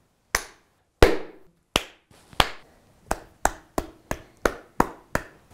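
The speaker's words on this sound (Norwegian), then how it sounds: "Kan du klappe en gang?" Sharp hand claps, about a dozen, ring out one after another, starting spaced apart and then settling into a quicker, steady beat. Each clap is crisp and close, with short quiet gaps and no talking.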